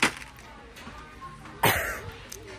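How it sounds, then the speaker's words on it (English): Coughing set off by perfume in a store: two sharp, fairly close coughs, one at the very start and a louder one partway through, with quiet background in between. "Those perfume made me cough."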